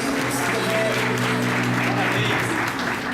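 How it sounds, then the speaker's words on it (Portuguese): Supervisors in a business seminar audience clap in dense, continuous applause, with a voice and a sustained tone running faintly under the clapping. "uma salva de palmas dos supervisores aí"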